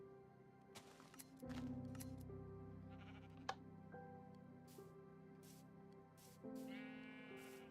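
Minecraft sheep bleat repeatedly at a sheep farm, several wavering calls, some near and some farther off, with clicks and rustles between them and no speech.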